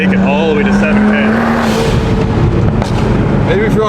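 A BMW 135i with its N54 single turbo engine accelerates hard, loud and close, its engine note rising steadily in pitch under a roaring exhaust while a voice talks over it.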